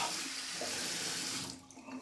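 Water runs from a bathroom sink tap in a steady, fairly loud, close stream with no talk, thinning out toward the end.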